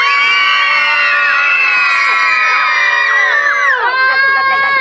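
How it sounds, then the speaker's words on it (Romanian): A crowd of children at a Halloween comedy-horror show lets out loud, sustained screams and shrieks, many overlapping high voices held for seconds, dipping slightly near the end. "Vreau un strigăt de Halloween, un strigăt de Halloween."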